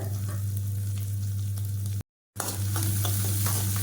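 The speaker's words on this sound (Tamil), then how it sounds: "இதில் நல்லா வெங்காயத்தை வந்து நான் வதக்கிக்கிறேன்" Small onions and curry leaves sauté in a hot pan with a loud, continuous close sizzle and stirring, broken by one brief silent gap.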